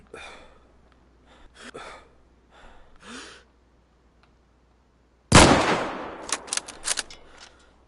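A single sharp gunshot from the video game James Riley: Death Is In The Air cracks out loudly after soft breaths and small rustles, followed by a few quieter clicks and thumps.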